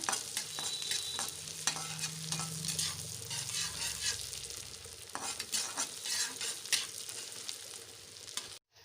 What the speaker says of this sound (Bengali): পেঁয়াজ, জিরে, শুকনো লঙ্কা ভাজা হয়ে গিয়েছে।